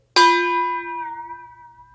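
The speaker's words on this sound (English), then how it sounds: "do you hear the sound start to bend?" A metal bowl holding water is struck once and the water spun, giving a loud bright ring whose tones waver and bend as the note slowly decays, heard alone.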